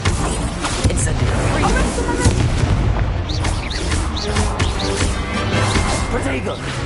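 Spell-casting combat in Hogwarts Legacy on PlayStation 5, with an Incendio fire spell among dense, continuous game effects: repeated booming bursts and crackling impacts over a steady low rumble, loud throughout, with a voice mixed in.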